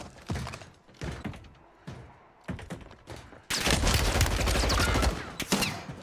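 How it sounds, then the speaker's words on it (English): Sniper fire in Warzone 3: several sharp isolated shots in the first half, followed by a dense, loud stretch of sustained gunfire and impacts, with no talking. "I'm getting sniped by someone else now."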